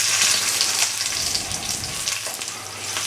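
Food for an English breakfast sizzles and crackles steadily in an all-in-one frying pan nearby, a constant bright frying hiss with occasional pops.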